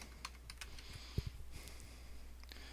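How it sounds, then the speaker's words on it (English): Quiet keyboard typing at a computer, a few soft keystrokes clustered near the middle of an otherwise faint, steady background hum. "So I'm going to type in welcome"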